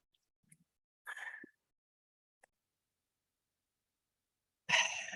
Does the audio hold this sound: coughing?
yes